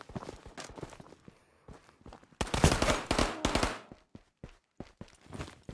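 Gunfire in the video game Ghost of Tabor comes as sharp bursts of rapid shots, heaviest in a dense volley midway, with scattered single cracks and thuds around it.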